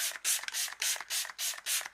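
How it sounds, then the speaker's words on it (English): Iconic London setting spray misted onto a face in five or six quick bursts, each a bright hissing puff of about a quarter second with short gaps between, close and alone with no talk. "I'm going to go back on with the Iconic London Setting Spray again"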